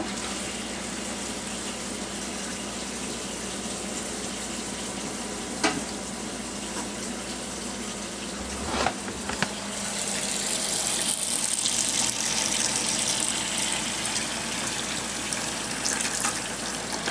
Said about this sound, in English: Now we'll turn the water on and you should see some water flowing through the clear P-trap.